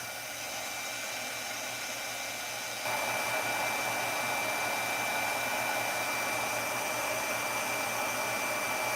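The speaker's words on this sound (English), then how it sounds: "I'm gonna pick this up and I'm gonna emboss it from the back." A heat tool blows steadily from behind the paper during heat embossing, a continuous close whooshing hiss of even loudness that grows slightly stronger partway through, with no talk.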